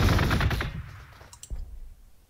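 A rapid burst of automatic weapon fire from Space Marines in Warhammer 40k Gladius, loud and rattling for about a second before fading, followed by a sharp single crack and a few faint clicks.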